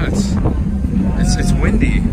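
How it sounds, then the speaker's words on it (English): Strong wind buffets the microphone at the Palms Las Vegas hotel pool, a loud continuous low rumble with gusty swells, while people talk over it. "it's windy."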